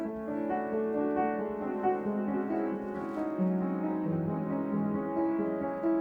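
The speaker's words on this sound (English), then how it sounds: "it has a modulated delay going into chorus," Orchestral strings play a flowing melody through an H90 effects pedal, washed in shimmering chorus and modulated echoing delay, the notes smearing into a lush, wavering texture without any talking.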